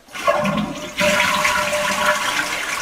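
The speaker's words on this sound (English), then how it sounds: "So what we're going to do is we're going to flush the toilet." A toilet in a gray water hand wash flushing system flushes close by, a click followed by a loud steady rush of water that keeps going to the end, no voices.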